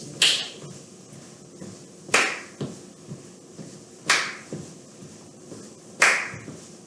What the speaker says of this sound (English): You can add a little clap if you want.